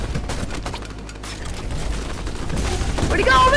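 Rapid video-game gunfire from a Halloween event, bursts of shots mixed with other game noise, with excited voices talking over it throughout.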